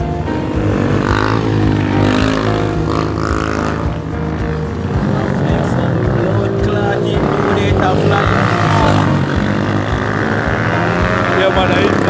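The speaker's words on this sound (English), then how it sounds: "That's Bike Life Chris with a stoppy" A motorcycle pulls a stoppy during a high-speed street ride, its engine roaring loud and steady throughout, with the pitch dipping briefly midway before rising again, while voices shout and talk over it.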